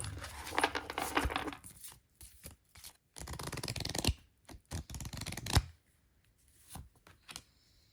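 A Tarot of the Carre Noir deck is shuffled up close in quick riffling bursts, with brief pauses and a few lighter taps between shuffles.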